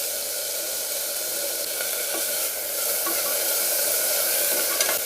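Onion and tomato sauté in a pan with a steady, close sizzle and crackle that continues without a break.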